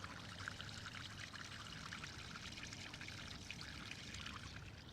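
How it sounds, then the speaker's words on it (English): A small fountain outside a library splashes and trickles steadily, a close, even rush of falling water heard alone without voices. "Here, I'm gonna put the mic on the water so you can hear it"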